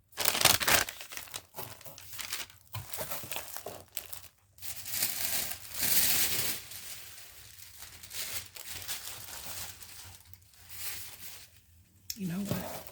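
Tissue paper crinkles and rustles in bursts while a swap parcel is packed, loud and close, with handling noises and pauses throughout.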